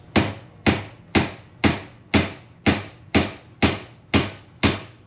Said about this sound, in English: I am using my not asking hammer, this is more of a telling hammer